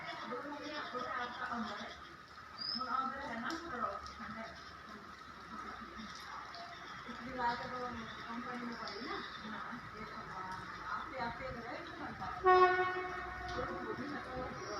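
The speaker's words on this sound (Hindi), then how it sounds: "कालका शिमला रेल मार्ग पर शिमला की ओर ट्रेन भी जा रही है" A train on the Kalka-Shimla railway, heading toward Shimla through snowy hills near Solan, rumbles faintly under continuous talking, with one short horn blast near the end.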